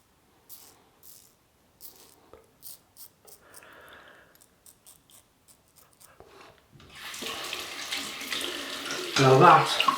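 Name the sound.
rinsing razor whiskers under running tap water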